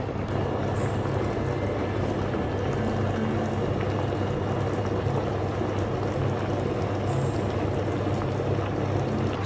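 Steady, dense bubbling of citrus shabu shabu broth simmering in a pot in Tokyo, a continuous low rumbling boil with no voices.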